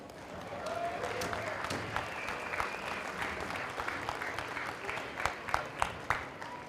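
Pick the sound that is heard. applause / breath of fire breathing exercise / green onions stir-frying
applause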